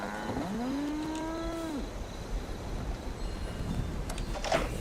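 A cow in the video game Fallout 76 lets out a single long, drawn-out moo that slides upward then holds before cutting off, heard clearly over a soft ambient game background.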